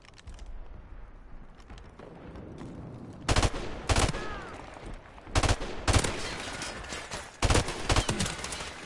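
M16 three-round bursts fire in Call of Duty: Modern Warfare Remastered, several loud, sharp volleys spaced a second or two apart over quieter game ambience.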